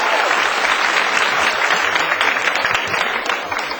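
A snooker crowd at the Kuo Po Cheng versus Wu Chia Ching match bursts into dense, loud applause that carries on steadily and eases only slightly toward the end.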